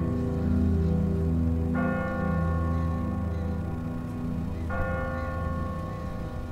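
Two slow, resonant strokes of a church bell in a tower in The Walking Dead video game, each ringing out and fading over a steady low rumble, with no voices.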